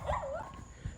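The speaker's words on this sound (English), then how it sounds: "that's the dog barking" A dog barks or yelps once at a house on Staten Island. The single whiny bark is faint and quickly over, set against a low background rumble.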